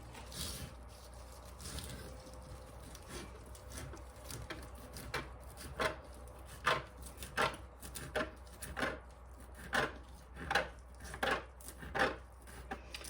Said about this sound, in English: what you want to do is you want to chop this really finely